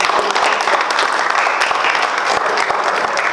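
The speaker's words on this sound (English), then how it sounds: "let's give a round of applause." An audience claps after a Latin class performance: dense, even applause from a small crowd, close and loud throughout, with no talk over it.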